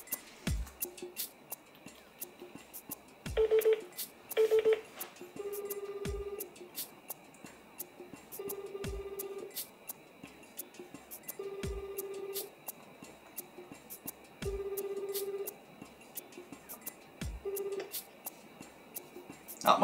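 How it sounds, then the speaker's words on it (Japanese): A phone call to a mother rings out through a handset: a repeated ringback tone, each burst about three seconds apart, over a quiet background with faint voices now and then. "今からリュウジに、 はい、 お母さんに電話してもらうということで"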